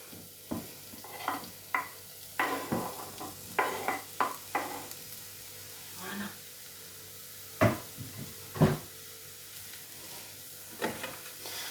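Mushrooms fry in a pan under a faint sizzle while a utensil stirs them in scattered scraping knocks, quiet and close.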